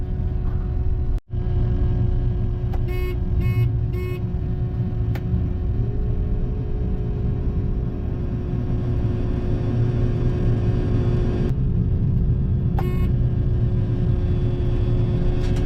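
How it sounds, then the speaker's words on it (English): A loud, constant buzzing drone with a low rumble and steady tonal hum fills the air at a farm's grain bins, with brief higher whines over it and no talk. "do not mind that really loud buzzing in the background"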